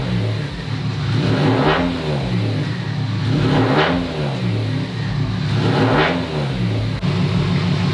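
A car engine revs up and down repeatedly, rising and falling in pitch about every two seconds, loud and close.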